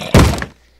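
A Minecraft mob bashes at a door, one heavy wooden thunk up close, lasting briefly before fading out.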